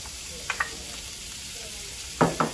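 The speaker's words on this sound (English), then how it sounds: "Let the ham brown up and the red peppers get a little soft." Ham, onions and red pepper fry in a pan, a quiet steady sizzle broken by a few short stirring scrapes near the start and two louder ones near the end.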